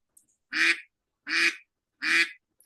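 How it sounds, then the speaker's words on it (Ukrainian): Three loud, evenly spaced duck quacks, each short and nasal, close up with silence between them. "Крякає, крякає, крякає. Це качка."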